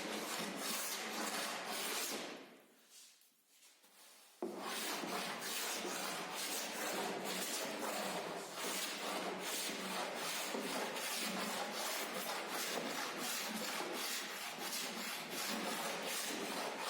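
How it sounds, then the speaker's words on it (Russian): Steady rasping scrape of sanding on a pine strip canoe, rhythmic back-and-forth strokes, close and continuous apart from a brief pause early on. "затем шпатлевка и шлифовка."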